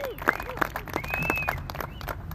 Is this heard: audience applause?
yes